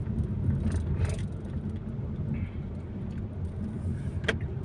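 Light road traffic flows near a circle in Quezon City: a constant low rumble of cars with occasional louder passes and a brief sharper hiss of a vehicle going by, moderately distant.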